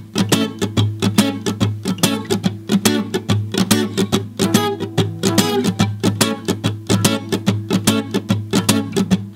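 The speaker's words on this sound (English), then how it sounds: "Now we can apply those percussive elements to our bar chord shapes." An acoustic guitar strums a song in a percussive reggae rhythm on barre chords, with dense, choppy, muted strokes and sharp string slaps, steady and close, and no voices.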